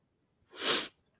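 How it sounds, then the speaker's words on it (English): A single close, loud sneeze from a person who mentions allergies and a starting cold, a short explosive burst standing alone with no talk around it. "How long I gotta sneeze?"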